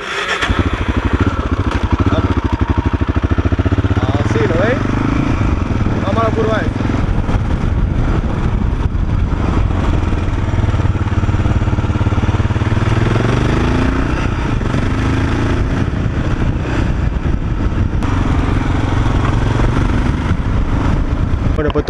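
A motorcycle engine starts up and settles into a steady, rumbling idle close by, with a voice talking over it at times.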